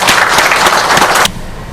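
A burst of applause from a conference audience in Kinshasa, dense clapping that cuts off abruptly after about a second.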